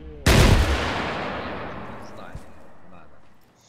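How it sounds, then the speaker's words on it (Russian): A loud blast from gunfire on an airfield in the video game ArmA 3, one sharp report followed by a long rolling echo that fades over several seconds. "Аэродром обстреливается."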